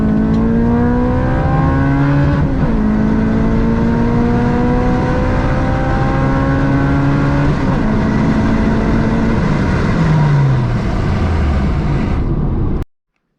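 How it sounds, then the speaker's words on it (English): A 6-speed manual Acura RSX Type S with its K20A2 engine pulls hard through the gears, revs climbing steadily and dropping at each shift, loud and close throughout before cutting off abruptly. "Here's a little video clip of me driving it."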